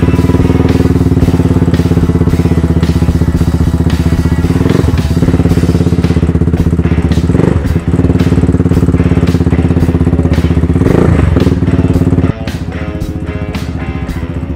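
A motorcycle fitted with a full-system exhaust and a bullet-pipe slip-on muffler rumbles loudly and steadily up close, with a deep, dense, throbbing engine note and a few brief surges, running alone with no voices.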